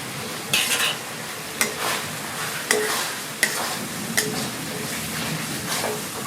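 Fried shrimp being stirred into a spiced masala in a pan give a steady sizzle, with regular scraping knocks of the spatula about every second.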